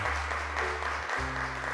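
Steady applause from a studio audience on a Turkish children's television show, filling the whole moment evenly as a guest is called up, with no talking over it.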